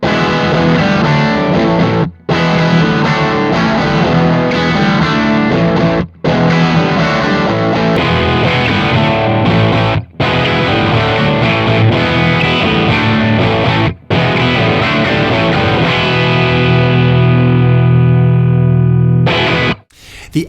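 A loud, distorted electric guitar through a Vox AC10 amp and bigger speaker cab plays chunky riffs with a full, heavy low end, pausing briefly every few seconds before ringing out at the finish.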